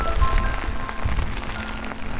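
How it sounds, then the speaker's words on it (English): Heavy rain pours down in harsh, stormy weather, drumming steadily and densely on a surface with scattered close drops and no voices. "it's raining, and it's raining a lot"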